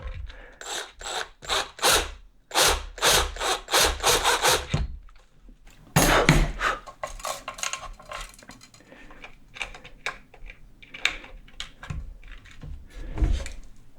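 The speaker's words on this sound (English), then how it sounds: "I'll drill just a tiny bit more." Drilling into a Telecaster guitar body, with bursts of harsh grinding and rasping bit noise in quick repeated pulses, then sparser scraping and clicks, close and loud with no talk.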